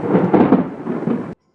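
A thunderstorm rumbles loudly and close with rolling, dense low thunder over rain, sustained for over a second before cutting off abruptly into silence.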